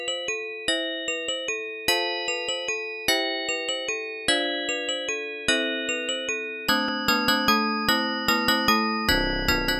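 Carol of the Bells played as a chiptune on a Yamaha YM2151 FM sound chip for a Commander X16 Christmas demo: bright, bell-like plucked notes in a steady repeating four-note figure, with the arrangement thickening as more voices join.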